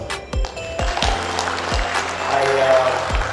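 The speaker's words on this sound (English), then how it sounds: "ladies and gentlemen, we owe them a big applause" A seminar audience gives sustained applause for keynote speakers, a dense wash of clapping under amplified speech, with occasional low thumps from the microphone.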